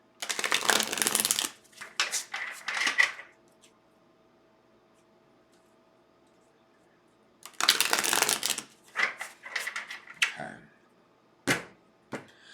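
Tarot cards shuffled and dealt onto a wood block: two bursts of dense riffling and papery slaps, each followed by a few separate taps as cards are laid down, with a quiet pause between, close and fairly soft.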